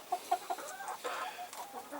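Nine-month-old Denizli roosters, just starting to crow, cluck softly in a quick series of short notes, with more scattered clucking and faint background noise following.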